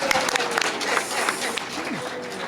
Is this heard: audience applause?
yes